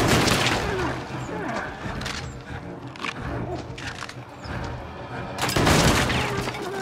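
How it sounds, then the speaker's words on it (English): A bagman firing a gun in the video game Little Nightmares II: several booming, reverberant shots scattered across a tense game soundscape, with the loudest blast near the end. "This bagman is trying to shoot me."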